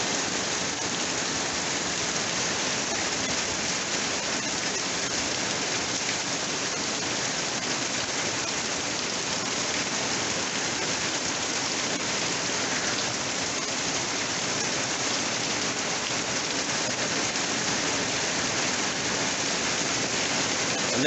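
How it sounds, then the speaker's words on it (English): Heavy rain pours steadily, a dense unbroken hiss that stays loud and even throughout, with no voices. "Ten years ago, we didn't have rains like this."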